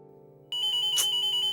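A phone ringtone in a Tamil TV serial household scene rings out suddenly and loudly, a steady repeating electronic chime pulsing in even beats over quiet background, with no one talking over it.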